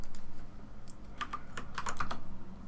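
A few quick keystrokes tap on a computer keyboard, soft and close, arriving in a short irregular burst over a low background hum.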